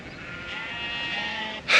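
Sheep bleating on a farm, a sustained nasal bleat filling most of the clip at moderate distance, then a sharper, louder call cutting in at the very end.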